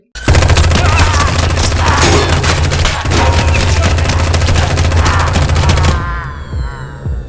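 Machine gun fire from the horror film V/H/S/94 pours out in a loud, dense, continuous burst of rapid shots for about six seconds, then cuts to quieter rumbling.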